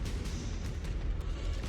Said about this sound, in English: There are explosions going on.